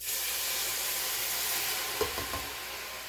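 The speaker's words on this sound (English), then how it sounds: "And now I'm going to add a 28-ounce can of crushed tomatoes." A can of crushed tomatoes goes into a hot pot, with a continuous loud sizzle and hiss throughout. A couple of soft stirring thumps sound near the end.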